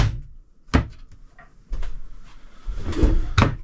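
Large drawers in a Caravelair Sublim 510 caravan slide open and shut, giving several sharp knocks and thuds separated by softer sliding rumbles, close and fairly loud with no speech.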